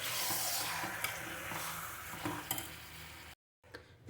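Chicken being stirred into a pot of Rayalaseema-style masala, with a soft sizzle and scattered scraping and clinking strokes from the spoon, fairly quiet and close, ending in a brief silence.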